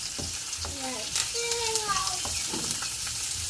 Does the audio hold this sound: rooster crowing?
no